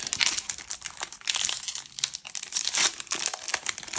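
A Disney Lorcana trading card booster pack from a First Chapter reprint box is torn open, with close, busy crinkling and crackling of the foil wrapper in quick irregular bursts and no talking.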